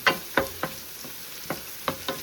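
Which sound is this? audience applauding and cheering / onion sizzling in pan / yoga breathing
onion sizzling in pan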